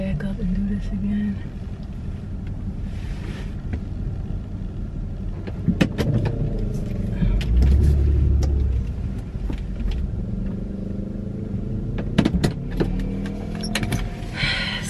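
A car reversing and pulling into a parking spot outside a store, with a steady low engine rumble and road noise throughout, a heavier surge midway as it moves, and a few brief clicks and rattles inside the cabin.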